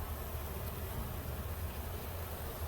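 Honeybees swarm around a residential backyard hive, a faint, steady buzzing drone that carries unbroken throughout.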